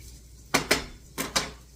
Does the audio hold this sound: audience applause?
no